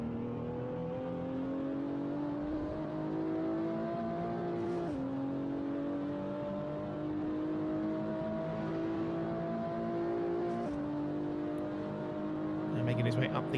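Race car engine in a sim racing game at a 750 Motor Club event, climbing steadily in pitch through several upshifts down the fastest straight, loud and continuous with brief dips at each gear change.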